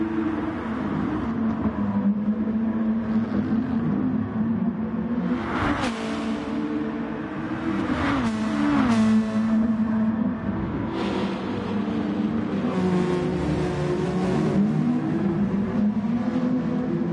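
Nissan race cars in a Gran Turismo-style racing video game, engines droning steadily throughout with repeated rising revs and gear shifts as the cars accelerate, loud and continuous with no talk.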